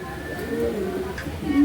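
Pigeons, including a red male, cooing softly in a loft, low throaty coos under a voice talking close by.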